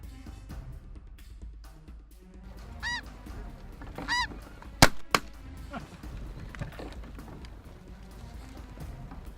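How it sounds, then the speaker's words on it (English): Snow geese honking overhead during a spring hunt, thousands of birds in the air, with repeated distinct nasal honks over a busy background of distant flock calls and a couple of sharp loud bangs midway. "there's thousands of birds in the air"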